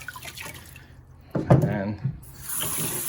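Car air filter from a 1968 Baja Bug being rinsed in water with washing agent: splashing, dripping water under a voice, followed by a steadier run of water near the end.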